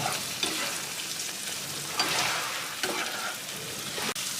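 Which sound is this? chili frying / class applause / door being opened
chili frying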